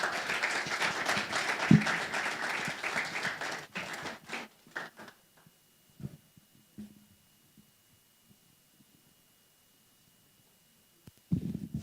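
At the launch of a children's investment fund, the audience applauds after the presentation: several seconds of moderate clapping that thins out and stops, then faint scattered thumps in near silence and a short loud knock at the very end.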